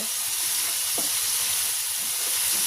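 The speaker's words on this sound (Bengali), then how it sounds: "এই যে মরিচের গুঁড়ি দিয়ে দিলাম, আর আগে তো আদা বাটা, রসুন বাটা আর হচ্ছে একটা টমেটো পেস্ট করে হচ্ছে দিয়ে দিচ্ছি। এখন এটা সুন্দর করে কষিয়ে নেব।" Chili powder, ginger, garlic and tomato paste stir-fried in a pan in a village kitchen, a steady close sizzle with hiss and faint stirring scrapes, no talking.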